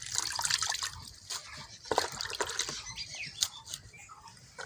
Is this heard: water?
yes